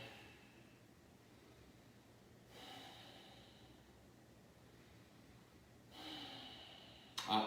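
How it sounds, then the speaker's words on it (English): A person breathes slowly and deeply during a hips-focused yoga practice, with two soft, airy inhale-exhale swells separated by quiet pauses, close and faint, and no talking. "Inhale and exhale."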